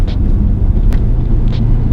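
A Subaru STI with a 6-speed manual drives along a canyon road, its engine a loud, steady low rumble from inside the car, with faint whooshes of passing air.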